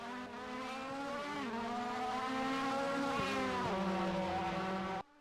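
A race car in rFactor 2 at a Le Mans all-star race with LMP1-H, DPi, GT1 and GTE cars, a loud, steady, high engine whine with falling pitch dips as gears shift, cutting off abruptly at the end.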